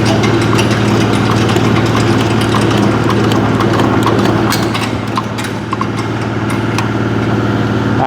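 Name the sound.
hammermill engine running after being cranked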